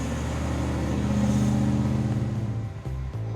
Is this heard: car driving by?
yes